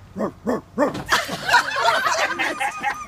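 A person imitates a dog barking as the nanny dog in an impromptu Peter Pan play, giving three short, evenly spaced barks followed by a run of whiny, yelping vocal sounds, close and clear.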